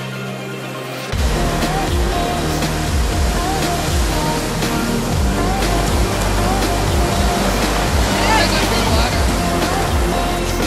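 Ocean waves breaking at a California beach where a boogie boarder heads out, a loud, dense, continuous surf roar close by with churning wash throughout after a quieter opening second.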